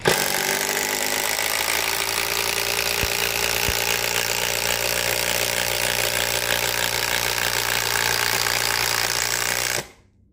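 A Kamolee Gen 2 impact driver runs continuously with a loud, steady motor whine and buzzing rattle, unbroken for about ten seconds before cutting off abruptly near the end.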